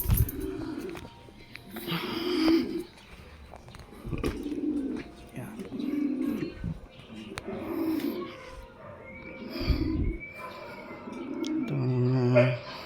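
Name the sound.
birds, 9 to 10 months old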